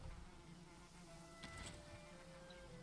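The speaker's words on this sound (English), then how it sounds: "Check bees. Bees are happy." Bees buzz around a beehive in the Valheim video game, a faint, steady insect drone that holds throughout against a quiet outdoor backdrop with a brief brighter burst partway through.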